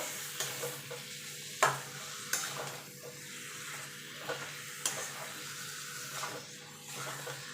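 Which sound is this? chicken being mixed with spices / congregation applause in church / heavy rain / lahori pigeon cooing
chicken being mixed with spices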